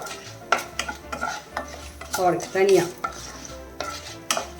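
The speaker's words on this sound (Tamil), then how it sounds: "மல்லியும் கொஞ்சம் வறுபடணும்" Coriander seeds roasting in a dry pan for a banana-flower recipe, stirred with a spoon in repeated scraping strokes and light clinks against the metal, close and moderately loud with a brief busier burst midway.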